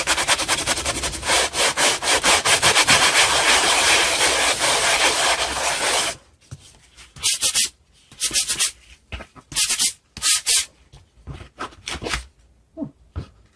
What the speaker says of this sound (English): you just run it over a few times with a sanding block